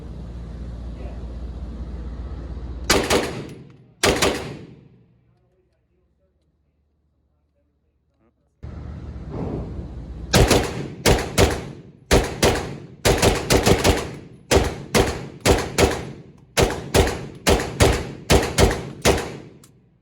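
An MP5-style clone built on an AP5 MKE, fitted with a Franklin binary trigger, fires outdoors. A few loud reports come first, then a long string of sharp, evenly spaced shots, some in quick pairs.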